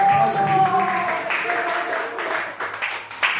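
A church congregation claps during a Sunday worship service, a steady wash of applause mixed with a sustained voice or musical tone at the start, followed by denser bursts of clapping.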